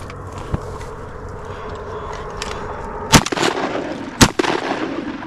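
Shotgun blasts at ducks on a Texas duck hunt over water: two loud, sharp reports about a second apart, with a fainter shot earlier, set against outdoor background noise.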